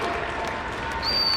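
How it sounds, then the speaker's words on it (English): A crowd at a PPW Attitude professional wrestling show cheers and applauds, making a dense, loud, continuous roar that swells slightly toward the end. "Listen to this crowd here."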